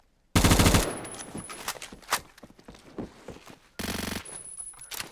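M16 rifle in the Phantom Forces game fires two loud, rapid bursts separated by a few seconds, with lighter clattering and footstep-like tapping filling the gap between them.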